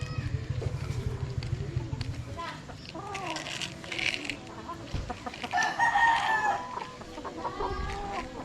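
A rooster crows and several hens cluck in a backyard flock of chickens being raised, with overlapping calls at close range and a steady low rumble underneath.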